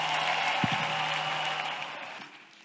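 A congregation at a prayer and intercession meeting applauds in praise of Jesus, a broad, steady wash of many hands clapping at moderate distance that holds for a couple of seconds and then fades slightly.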